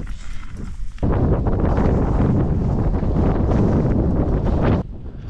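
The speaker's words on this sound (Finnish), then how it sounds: "Tuulee" Strong wind buffets the microphone beside a mountain fjell lake at Ifjordfjellet in Norway, a loud continuous roar that rises abruptly after a second and holds steady before dropping off near the end.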